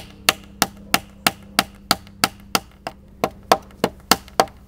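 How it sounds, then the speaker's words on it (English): Roughly fifteen sharp, evenly spaced hammer blows driving a tapered wooden peg into a hole in a log, close and ringing with a quick woody knock on each strike. "I'm going to stick that in a hole, and then I'll go ahead and hammer that in"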